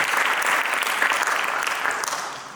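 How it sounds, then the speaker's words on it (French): An audience at a French underwater festival applauds, a steady patter of many clapping hands lasting a couple of seconds and fading slightly at the end, with no talk over it. "petit applaudissement pour Huguette"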